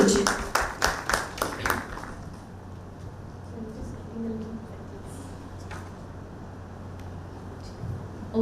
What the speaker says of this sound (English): Ladies and gentlemen, with a round of applause, may I please welcome Utssav Gupta